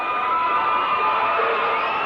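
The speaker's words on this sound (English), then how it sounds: "And this electrifies Gate City's crowd even more." A high school basketball crowd in a 1987–88 Gate City gym roars and cheers continuously after a missed free throw, a dense, sustained wash of shouting voices.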